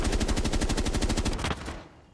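Rapid automatic gunfire in a first-person shooter game, shots punching through a wall in a steady fast burst of evenly spaced loud cracks for about a second and a half before cutting off into quiet.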